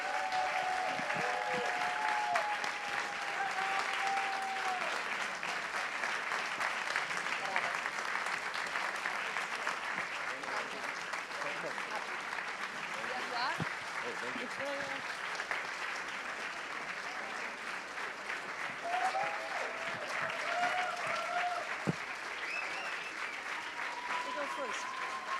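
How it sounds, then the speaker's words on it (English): Applause at a Volt Europa general assembly as speakers come on stage, a steady wash of clapping held at moderate distance, with some voices and brief murmurs over it. "Give them a warm applause."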